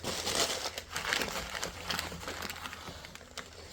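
Crinkling and rustling of crumpled newspaper wiping a car's glass after Rain-X, rubbed in quick, uneven strokes across the surface, close and fairly quiet, with no voices.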